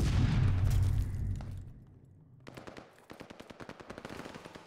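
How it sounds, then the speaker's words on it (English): Game pistol fire in a competitive shooter match: a loud blast first, then a quick, steady string of sharp single shots at close range. "Oh, Misty with the pistol"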